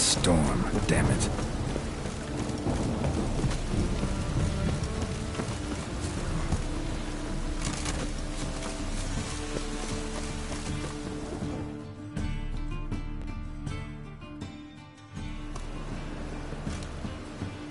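Thunderstorm in The Witcher 3 with steady heavy rain and rolling thunder throughout, loud and close, while game music and ambience play underneath; the rain thins somewhat toward the end.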